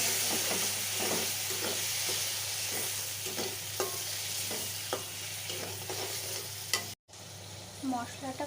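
Onion, shrimp paste, salt, turmeric, chilli and coriander powder fry in oil in a pan with a steady close sizzle, while a spatula stirs and scrapes in regular strokes, briefly cut off near the end.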